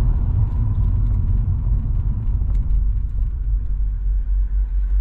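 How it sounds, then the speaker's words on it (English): A BMW E46 six-cylinder engine rumbles steadily from inside the car, a deep continuous drone that holds even for several seconds with no talking. "especially that sound coming from a six-cylinder"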